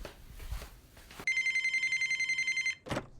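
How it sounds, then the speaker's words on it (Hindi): A telephone rings in one sustained electronic trill of about a second and a half, close and clear, followed by a short burst of another sound. "वापस जीत का फोन"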